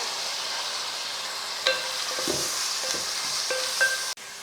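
Chopped onions sauté in mutton fat for an empty biryani, giving a steady moderate sizzle with a few stirring knocks and scrapes and a sharp clatter near the end, and no talking.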